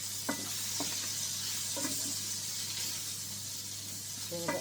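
Bacon fries in a pan while making macaroni cheese, with a broad, steady sizzle and a few light scrapes and stirring clinks over it.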